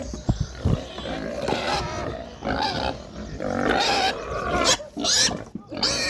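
Pigs grunt and squeal loudly at close range as rice is put out for them at feeding time, with overlapping snorts and louder bursts in irregular rhythm.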